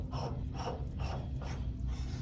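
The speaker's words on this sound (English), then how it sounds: "now I'll tighten it down" A ratchet tightens a fastener in a steady rhythm of about five quick clicking strokes, close and moderately loud, with no talk.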